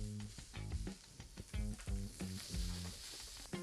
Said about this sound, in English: Then we're gonna add our onions and our corn. Saute those lightly, then add the sausage.